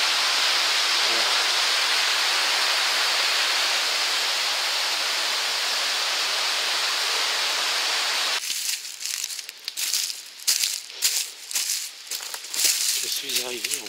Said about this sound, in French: il y avait une autre rivière.